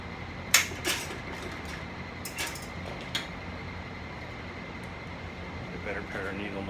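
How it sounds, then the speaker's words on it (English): An electric fan in an upholstery workshop gives a steady, broadband whoosh throughout, with occasional sharp clinks and knocks of tools and hardware over it. "sorry for the fan noise"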